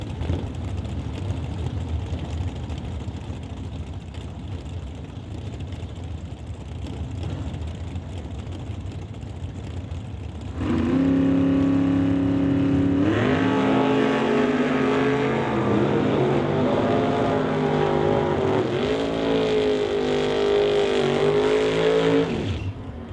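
A Camaro and a Chevy Bel Air at a drag strip, engines droning at idle from a distance before a loud, sustained roar of engines revving hard and accelerating down the track, then cutting off.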